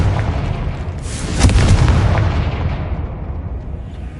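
Confringo blasting spell in Hogwarts Legacy going off as a single loud explosive boom that swells with a rumbling low roar, then trails into a fading crackling tail.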